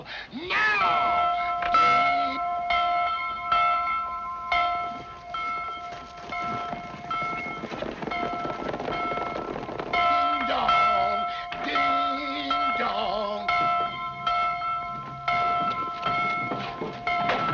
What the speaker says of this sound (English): Ring the bell now.